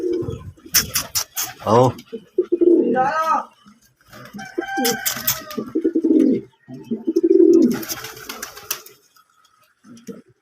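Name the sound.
pigeons cooing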